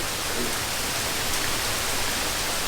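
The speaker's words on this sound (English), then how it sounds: "she wanted me to film this rain coming down, and it's coming down hard" Heavy rain pours down hard in a sudden outdoor downpour, a dense, even hiss of countless drops filling the space at steady loudness with no voices.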